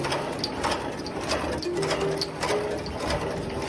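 Factory machines making furniture screws run with a steady, dense mechanical clatter and whir, continuous and fairly loud throughout with no talking.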